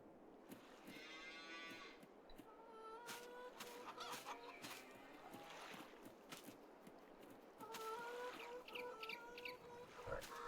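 Chickens clucking in the Farming Simulator 22 video game on a farm, bursts of clucks and squawks repeating over several seconds with cattle mooing among them, all fairly faint.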